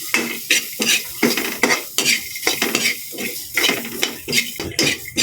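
Garlic sautéed in a pan for shrimp with spinach, rhythmic spatula scrapes and stirring knocks over a bright sizzle, close and repeated every half second or so.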